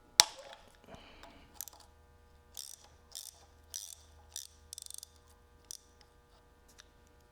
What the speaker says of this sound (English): I'm gonna loosen up this timing belt idler pulley, and that'll put enough slack in the timing belt where I can pull the timing belt off.